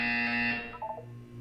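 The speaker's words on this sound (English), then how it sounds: "When you hear the buzzer, look down at the floor." Electronic buzzer tone from the video game Portal 2, a steady harmonic drone held loud for about half a second, then breaking into a few short wavering pulses before fading into a low hum.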